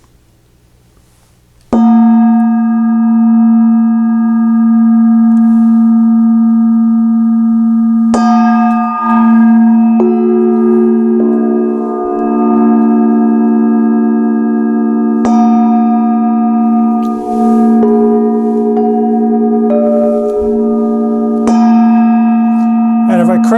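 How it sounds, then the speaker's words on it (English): A thick Burmese bell plate is struck several times, each loud, solid strike ringing with a sustained, pitched hum that decays slowly, after a brief quiet start and with faint touches between hits. "it has a really solid sound as opposed to a crashy gong sound. And I think of this more as a bell plate."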